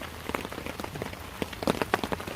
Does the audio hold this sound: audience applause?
no